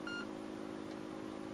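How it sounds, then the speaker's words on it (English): Short repeating electronic warning beep from the Commodore 64 game Rescue on Fractalus, a thin high tone pulsing briefly at the start over a steady low droning engine hum of the game's spacecraft. "Is the beeping saying it's a bad idea to turn the systems off at the moment because you'll be wanting those shields"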